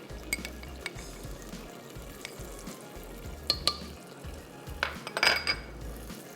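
Meat being stirred in a pan with salt, white pepper and chicken powder for balti gosht, soft sizzling under scattered scraping and clinks of a spoon against the metal pan, no voices.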